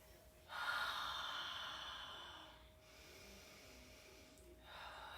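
Slow, deep breaths taken while seated in a yoga hero pose: a long airy inhale and exhale, then a pause and another breath starting, soft and close with quiet room tone.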